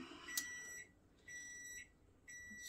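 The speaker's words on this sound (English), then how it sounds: "Excuse the beeping in the background." An electronic alarm beeps faintly in the background in regular repeating high-pitched pulses, each lasting about half a second with short gaps between, over a quiet room.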